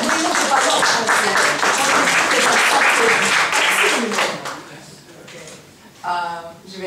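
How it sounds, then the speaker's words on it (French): Audience at an Iron Man 3 press conference in Paris applauds in a loud, dense burst of clapping that fades after several seconds, followed by a brief voice. "on applaudit"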